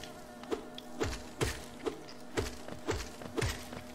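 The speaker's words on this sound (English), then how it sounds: "It's a big bee. Spawn small bees." Droning insect buzz from giant bee enemies spawning smaller bees in the video game Hollow Knight, held under a steady hum and broken by a string of regular soft thuds about every half second.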